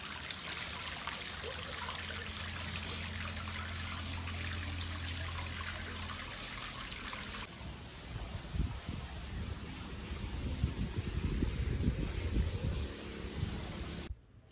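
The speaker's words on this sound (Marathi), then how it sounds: "शिवलिंगामधून जे अविरत पाणी वाहत आहे" Water flows continuously from a Shiva lingam at a temple in Ambegaon, a steady broadband rush and trickle filling the whole stretch, with a heavier, closer churn toward the end before stopping abruptly.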